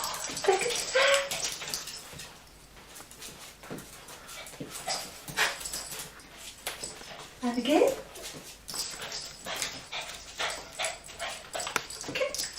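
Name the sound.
dog whimpering and barking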